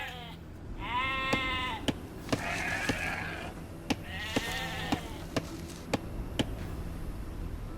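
Sheep in the strategy game Age of Empires II bleat twice in quick succession, clear wavering calls, over a soft ambient bed punctuated by sharp, evenly spaced clicks from interface selection and movement commands.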